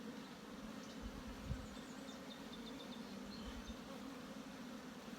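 A steady, soft hum of honey bees buzzing inside a beehive, continuous and even, with a few faint thumps underneath and no voices.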